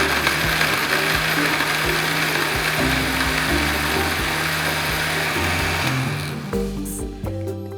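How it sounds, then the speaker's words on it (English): A countertop blender whirs steadily while blending chocolate pot de creme under a towel-covered vented lid, a loud continuous motor drone with shifting pitch that drops off near the end. "And then we will turn our blender on"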